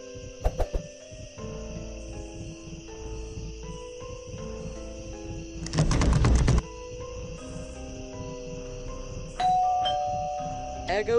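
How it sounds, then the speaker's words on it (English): A doorbell chimes in the Scary Teacher 3D video game amid steady electronic game tones and music, with a loud burst near the middle and a brighter ring toward the end. "There goes that stupid bell again!"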